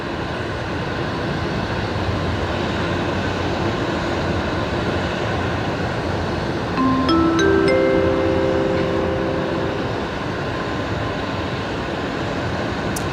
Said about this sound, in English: The Qantas A330 coming out to put on a show tonight.